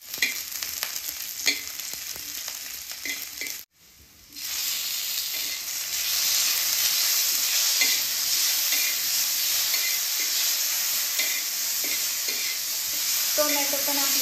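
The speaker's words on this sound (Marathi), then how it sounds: "कांदा आपल्याला लाल सोनेरी कलर येईपर्यंत भाजून घ्यायचा आहे" Onion frying in oil in a pan on a wood-fired stove, a loud continuous sizzle with stirring scrapes, dropping out for a moment and then returning even stronger, with no voices.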